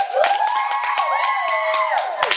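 A comedy club audience at the Guild Theater cheers, whoops and claps loudly for about two seconds, with overlapping shouted voices and steady close applause.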